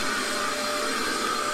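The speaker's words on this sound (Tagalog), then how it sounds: "Nag-vacuum ako ng upuan namin." Vacuum cleaner running on seats, a constant whining motor drone with a faint steady tone, close and unbroken, no talking.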